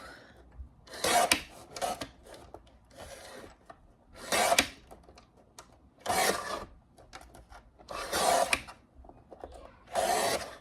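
A Tim Holtz rotary cutter rolls across a piece of scrap in five or six short, raspy slicing strokes, each a close, crisp scraping burst separated by brief pauses, with no speech.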